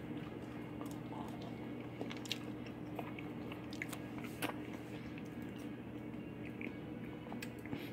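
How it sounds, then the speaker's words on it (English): Someone eating a home-made potato wedge, close soft biting and wet chewing with small crunches throughout, over a steady low hum inside a van. "So let me go ahead and have a taste."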